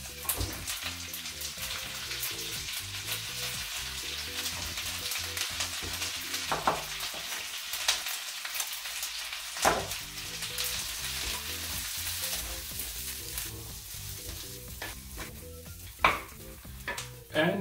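Cauliflower sprouts frying in a pan over very low heat during risotto cooking, a continuous soft sizzle with occasional scraping stir strokes and light clatters, steady and close.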